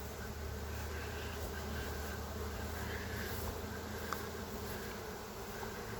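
A honeybee swarm buzzes around a pine tree outdoors, a continuous droning hum from countless bees, steady and moderately loud, with an occasional individual bee zipping closer past the listener.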